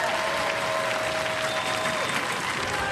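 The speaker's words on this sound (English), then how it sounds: "Give them a round of applause" Studio audience applauding a family robot-building team on the Robot Wars arena show: a continuous, even wash of crowd clapping throughout, with a faint steady tone running underneath.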